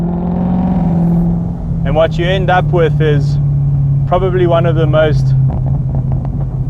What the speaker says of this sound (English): You'd expect a big capacity V8 like this to be a little bit lazy, but it just blips. It revs so fast.